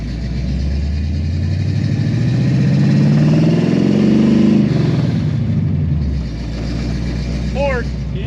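A Pontiac Firebird with a built 455 engine drives past, its deep engine rumble swelling as it nears, peaking loud and close, then fading as it pulls away.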